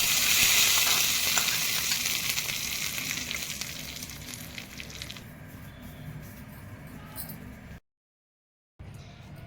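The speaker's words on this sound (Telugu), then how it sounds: "తాలింపు దీంట్లో పోసేసుకుందాం." A hot tempering of mustard seeds, cumin, chana dal, urad dal, a dried red chili and curry leaves sizzles loudly with a dense hiss as it is poured in, then fades to a faint crackle before a brief silence.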